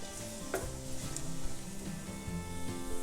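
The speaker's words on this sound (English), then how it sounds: "Just let that garlic cook until it softens up a bit." Minced garlic, two cloves, sizzles steadily in a hot pan, a continuous close frying hiss with faint stirring scrapes and small pops throughout.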